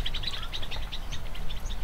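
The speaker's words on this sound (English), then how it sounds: "I hear some little birds that are really desperate for their 15 minutes of fame." Small birds chirp and tweet in quick, overlapping calls outdoors on Kauai, fairly loud and constant over a steady rumble of background ambience.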